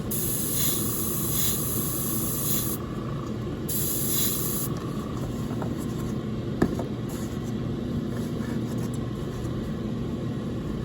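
A continuous airbrush spray hisses for several seconds while painting a model, cutting out briefly then resuming, with a low steady compressor hum underneath and one sharp click.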